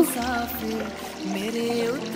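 Water poured from a container, a short, soft trickling stream heard close up with no talk.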